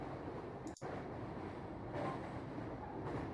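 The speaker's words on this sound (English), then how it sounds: "The train was still running" Steady broadband rumble of a train in motion, continuous and fairly loud throughout, with a brief dropout near the start and no voices.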